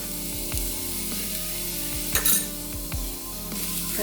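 A cabbage stir fry with grated coconut gets mixed in a pan: soft sizzling runs throughout while several metallic spoon-against-pan knocks land at irregular intervals, one brief louder scrape in the middle, no voices.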